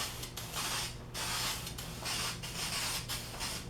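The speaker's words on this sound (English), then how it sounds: "I could take some black spray paint" Black spray paint is dusted onto a filled car body panel in a run of about five short, close, hissing aerosol bursts separated by brief pauses.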